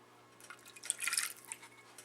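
A quarter cup of water trickles into an apple pie filling of butter and flour, quiet scattered drips and splashes building briefly in the middle, close but faint against a low steady hum.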